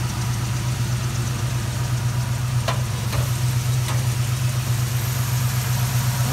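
A 1970 Dodge Challenger with a 440 big-block V8 idles steadily and loud, a deep continuous rumble with a few faint ticks and clicks over it and no one talking.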